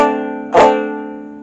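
A single bright plucked banjo chord rings out, with one sharp twangy strum in the middle that quickly fades back into the sustained tone.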